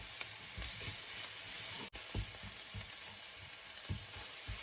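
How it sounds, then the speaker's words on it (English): Garlic sautéing over very low heat in a pan for garlic butter mushrooms, before the mushrooms go in: a steady soft sizzle and hiss with occasional low stirring bumps, close and unbroken apart from one brief dropout. "I'm just going to give these a couple more minutes to saute and cook before I add my mushrooms in here."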